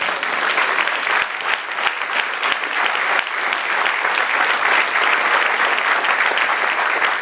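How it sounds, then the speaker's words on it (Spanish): A church congregation claps together in praise during a Spanish-language sermon, a sustained, dense round of applause with a few sharper individual claps standing out, continuing for several seconds with no speech over it. "Un aplauso al Señor."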